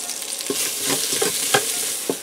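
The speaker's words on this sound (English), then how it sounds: "I'm going to get this in here in the pressure cooker and let it saute for a few minutes until it starts to get translucent" Onion sautés in a pressure cooker, a continuous close sizzle broken by several scraping stirs spaced about half a second apart.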